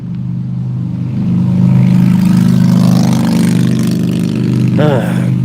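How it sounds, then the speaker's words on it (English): A motorcycle passes by on a neighborhood street in the evening, a steady mid-pitched engine drone building and holding loud and close, with a brief higher whine near the end. "hold on, there's a motorcycle coming by."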